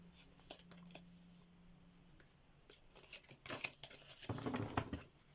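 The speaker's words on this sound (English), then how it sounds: "Let's give these cards a shuffle." Oracle cards are shuffled by hand at a desk, a soft irregular patter of riffling and sliding card edges that grows busier and louder toward the end, close and quiet with no talking.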